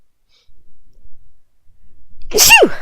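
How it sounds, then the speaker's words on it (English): A single sharp sneeze near the end, preceded by a couple of soft breaths in otherwise quiet surroundings. "I'm gonna sneeze."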